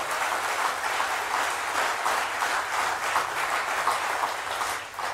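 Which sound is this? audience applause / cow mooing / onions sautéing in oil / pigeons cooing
audience applause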